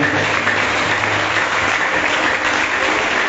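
A congregation at a church vigil applauding God, dense sustained clapping from many hands filling the room, loud and even from start to finish with no speech over it.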